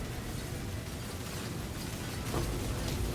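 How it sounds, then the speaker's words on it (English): Bursting explosions from cultist enemies in a video game, heard as a dense continuous roar of blasts and crackle with a louder surge near the end, with no talking. "Now I'm getting the cultist explosions."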